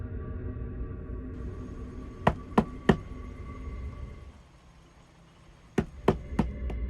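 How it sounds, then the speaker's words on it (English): Two sets of sharp, loud knocks ring out against the body of a camper van parked in a quiet park at night, three raps early and three more later, with low ambient hum between and no voices. "2 loud knocks echoed through her van"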